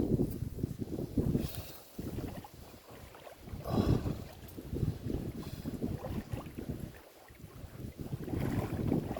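Wind gusts across an open lake during a cold-weather winter swim, producing a steady, blustery rumble of wind buffeting the microphone, with rises and dips in strength and no talking.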